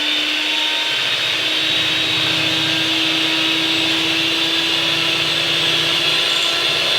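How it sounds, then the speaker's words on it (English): A handheld electric mixer beats chocolate brownie batter, giving a loud, constant motor whine with a steady hum that runs without a break and with no speech. "we're just going to mix this together using a handheld mixer"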